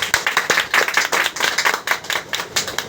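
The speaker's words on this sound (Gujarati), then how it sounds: "તો સાહેબ માટે દિલથી તાળી દેજો." Rhythmic clapping from an audience at a speech, sharp hand-claps falling in a regular, near-unison beat across the whole stretch, close and fairly loud.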